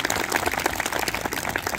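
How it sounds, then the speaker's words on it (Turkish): Loud, close crowd applause at the opening ceremony of a veterans' football tournament, a brief burst of dense, rapid clapping. "Kendilerine sizlerin huzurunda çok kuvvetli bir alkış rica ediyorum."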